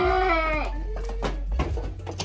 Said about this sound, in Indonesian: Jadi Mas Adi ini peternak kambing.